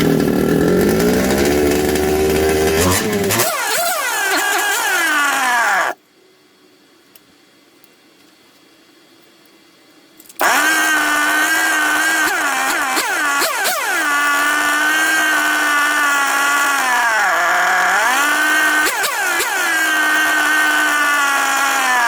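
A second-hand 1/5 scale RC Baja engine, with a suspected air leak, idles with a loud, buzzing two-stroke rattle. It cuts out for about four seconds, then restarts and keeps running steadily up close.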